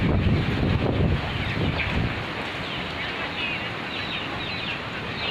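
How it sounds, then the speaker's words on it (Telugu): Gusty wind blows hard ahead of a rainstorm, bending the trees outdoors, and buffets the microphone as a steady rushing roar that is strongest at the start. "చూడండి గాలి వస్తుంది."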